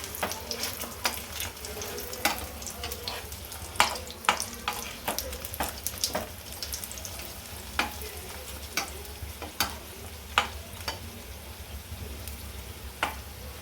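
Chicken moghlai frying in hot oil, pressed down again and again with a spatula: a continuous sizzle broken by frequent sharp taps and scrapes of the spatula against the pan, close and fairly loud, with no talking.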